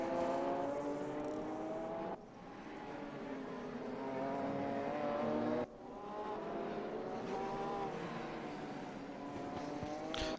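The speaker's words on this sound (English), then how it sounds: "these two Porsches head down the back straight into the hard braking zone" Two Porsche race cars screaming down the back straight at Mid-Ohio toward a hard braking zone, a loud sustained engine howl with shifting pitch and brief dips between gear changes.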